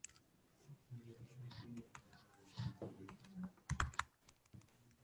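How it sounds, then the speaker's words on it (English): Commands being typed on a computer keyboard in a terminal during a programming lesson: quiet, irregular clusters of key clicks with brief pauses between bursts, heard close. "Everyone is able to see me typing commands?"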